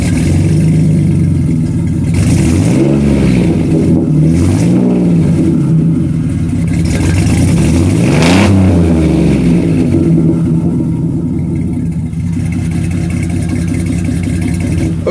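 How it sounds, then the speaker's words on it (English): A Jeep Grand Cherokee WK1 with a brand-new exhaust from Midas starts and settles into a loud, steady idle. A few deep revs swell and fall back under a constant low rumble. "we're back from Midas with a brand new exhaust. Let's go ahead and do a start up"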